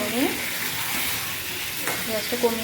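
Chicken pieces cooking in masala on low gas, stirred in the pan: a steady close sizzle and hiss with occasional soft scraping of the spoon, no voices.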